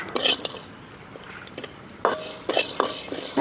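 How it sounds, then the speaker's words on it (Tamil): Garlic and chana dal roasting in a pan are stirred with a utensil, giving scraping clinks and bursts of light frying noise separated by brief quieter gaps. "இந்த அளவு வறுத்தா போதும் நல்ல பொன்னரமாக வறுக்கணும்"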